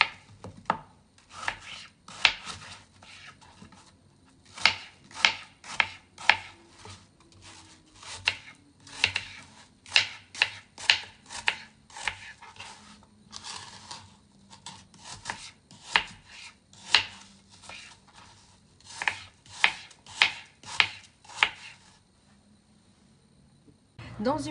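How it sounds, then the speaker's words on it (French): An apple being chopped into small pieces with a knife on a board for an apple cake, producing crisp, close knocks in quick rhythmic bursts separated by short pauses. "je coupe la pomme en petits morceaux"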